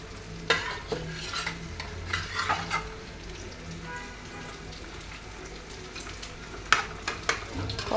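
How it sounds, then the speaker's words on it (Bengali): Bele fish frying lightly in a pan, a soft steady sizzle broken by a few sharp scrapes and clinks of a spatula, close and fairly quiet, with no talking. "মাছটা হালকা একটু ভেজে নিছি"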